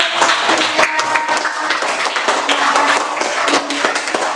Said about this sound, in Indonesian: Oh ya, tepuk tangan dong